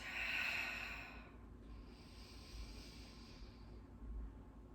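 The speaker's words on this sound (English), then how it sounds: "Take about 3 more great big deep breaths." Slow, deep breaths drawn during a yoga stretch: a strong, airy inhale or exhale at the start, then a softer, longer breath that trails off, close and quiet, with no talking.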